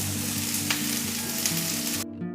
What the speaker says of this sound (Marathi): एक मिनिटभर मी आता हा कांदा कोरडाच परतून घेतला आहे